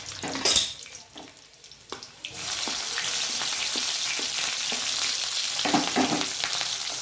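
Garlic and green chilies drop into hot oil in a pan and burst into a loud, steady sizzle that stays close and constant, after a few clanks and stirring sounds at the start, with no voices.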